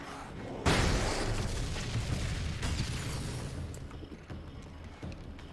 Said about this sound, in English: flashbang upon ye